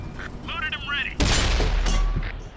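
A tank cannon in World of Tanks fires a single heavy boom that strikes armor, sharp and loud, followed by a brief metallic ring and a fading rumble, after a short burst of game-interface tones.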